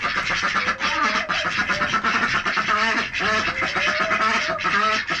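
Hen duck quacking inside a chilly coop, a dense run of loud, repeated nasal quacks that carries on steadily with little pause, joined by faint background voices.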